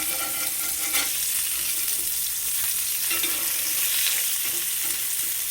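Burger patty for cheeseburgers sizzling and frying steadily in a hot pan just after being flipped, a continuous loud crackle with light scraping and stirring clatter, no talking.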